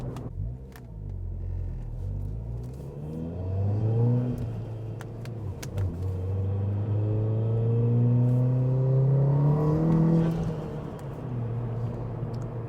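Engine of a 2018 Volkswagen Golf R with six-speed manual transmission, a sports hatchback, pulling hard under acceleration: a deep, steady rumble that rises in pitch through the gear, close and loud inside the cabin with no talking.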